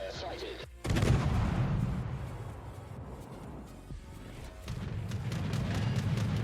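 Heavy naval guns of the Tier V British cruiser HMS Hawkins fire in World of Warships, with two loud booming salvos about four seconds apart over a steady rumbling battle background.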